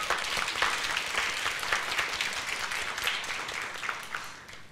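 Audience applause for a panel of guests, a dense wash of many hands clapping at steady strength, fading slightly toward the end.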